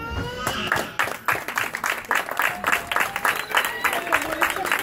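Audience at a family hotel's closing-night entertainment applauds, steady crowd clapping at moderate volume with a voice and some background sound mixed in.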